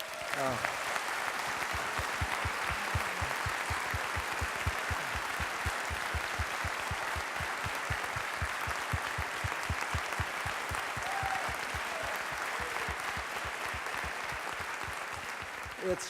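Sustained applause from a lecture audience, steady dense clapping with a rhythmic undertone, continuing evenly for a long stretch.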